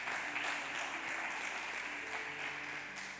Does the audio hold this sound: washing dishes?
no